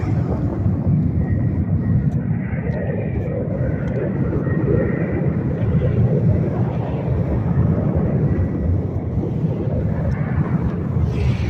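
Southwest jet airliner engine powering up for takeoff, a continuous low rumbling roar heard from a distance, steady and unbroken, with no voices.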